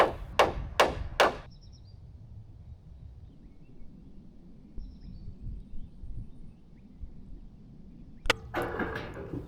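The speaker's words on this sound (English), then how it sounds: "I was able to go back and nail off the rafters, into fascia board into the rafters" Hammer nailing fascia board into roof rafters on a metal roof build: three sharp, close strikes in quick succession, a long quiet stretch with faint background noise, then another pair of blows near the end.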